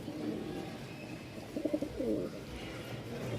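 A male Giribaz pigeon at a pigeon market in Mirpur-1, Dhaka, gives a short run of soft, throaty coos near the middle, close by, over a steady murmur of market background noise.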